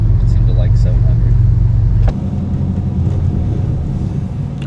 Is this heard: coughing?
no